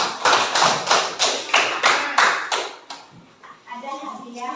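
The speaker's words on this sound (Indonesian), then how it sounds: "Tepuk tangan untuk mereka." Sharp rhythmic claps from a sixth-grade primary school class applauding fellow students, about nine even claps in a steady beat before fading, followed by a teacher speaking.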